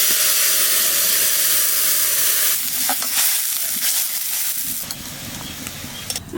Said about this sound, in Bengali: এইবার সর্ষে বাটা দিয়ে দেবো।